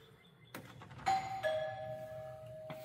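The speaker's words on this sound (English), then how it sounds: "you know you're close when the doorbell works" A doorbell in a newly finished barndominium chimes, with a sharp click and then two clear sustained tones ringing out and lingering, heard faintly indoors with no talk.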